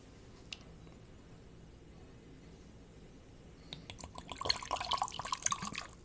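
Homemade moonshine poured from a bottle into a glass, a quiet lull and then a burst of light liquid splashing and clinking that builds over the last two seconds, close and fairly faint.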